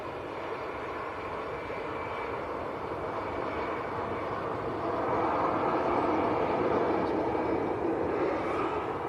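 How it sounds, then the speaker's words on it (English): A Lufthansa Airbus A320neo jet from Munich on short final approach, a steady distant engine roar and rush that swells slightly louder in the second half, with no voices. "Swinging it round for the Lufthansa from Munich on short finals."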